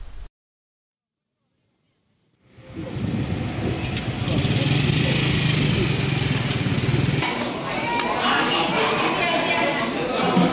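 A motorized tricycle rumbles steadily on a ride, its engine drone loud and close after a brief silence, with chatter and voices talking over it.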